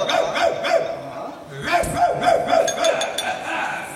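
A voice imitates a dog barking in a Yakshagana comedy performance, repeated bark-like yelps in quick bursts, close and loud, mixed with talk.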